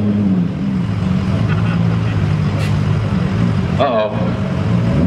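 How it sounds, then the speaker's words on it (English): A Mustang's big V8 races a Toyota Supra with a 2JZ engine, a loud, steady engine roar close by, with a brief rising surge near the end. A voice speaks briefly over it. "Got a Mustang in the right lane. See if his big old V8 can keep up with the 2JZ."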